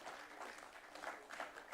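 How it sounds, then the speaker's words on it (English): Applause from an audience at an annual engagement event, a steady dense patter of clapping throughout, moderately faint and with no one speaking. "Another round of applause for"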